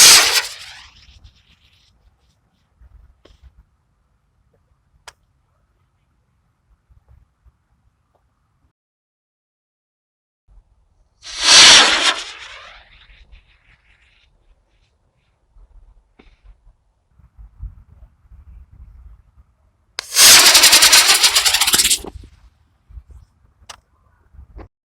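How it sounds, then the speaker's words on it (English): A toy airplane driven by a rocket engine fires in three separate loud, hissing bursts of roughly two seconds each. The bursts are spaced by quiet gaps that carry faint low rumbles and small clicks. "We're going to use this rocket engine and add some force with that."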